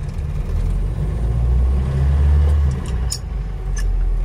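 A Land Rover Series III idles in gear with its clutch out, the engine a steady low rumble that swells slightly midway, while a broken axle leaves the vehicle stationary; light metallic ticks surface near the end.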